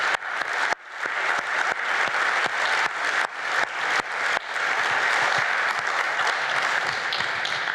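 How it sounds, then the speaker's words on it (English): A crowd applauds in a large hall at a rhino conservation gala, honoring anti-poaching teams in Kenya; steady dense clapping fills the whole stretch, with a few sharp isolated claps standing out early on. "which probably deserves a round of applause for the teams in Kenya"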